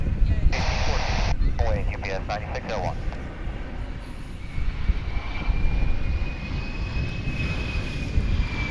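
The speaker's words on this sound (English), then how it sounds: "Here comes an American Airlines flight from Portland, Oregon. It's an A321." An American Airlines Airbus A321 jet approaches and lands at DFW International Airport, giving a steady broad engine roar that swells slowly. Someone speaks briefly near the start, over the engine noise.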